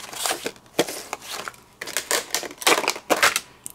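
A die-cutting machine cuts through black cardstock, giving a string of sharp, irregular crunching clicks and snaps close up, with no talking.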